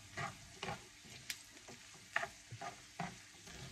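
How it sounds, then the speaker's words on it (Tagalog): Ground pork filling seasoned with salt and pepper being stirred in a pan for empanaditas, with soft scraping strokes arriving in irregular bursts over a faint sizzle, close and fairly quiet, no talk. "haluin mabuti"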